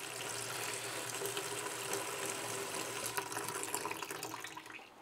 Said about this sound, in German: So, jetzt machen wir hier einen ganz kleinen Schluck Wasser rein.